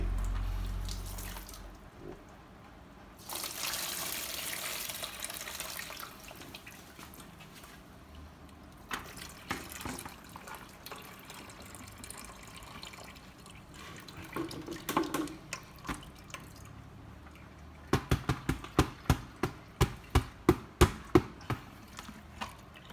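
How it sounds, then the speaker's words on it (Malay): Clean water poured over instant noodles prepared as fishing bait, with a spell of steady gushing followed by scattered splashes and a run of sharp drips and taps toward the end. "Air kita kasih tuang bersih."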